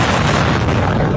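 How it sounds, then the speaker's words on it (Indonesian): Dense, loud rumbling blast from a Ukrainian sea drone explosion at Constanța port, a continuous heavy roar with no clear onset. "Itu sebuah ledakan yang berasal dari drone laut Ukraina terdengar sangat keras"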